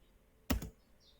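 A single short burst of keystrokes on a computer keyboard as a command is entered in AutoCAD, a brief cluster of clicks standing alone against quiet room tone.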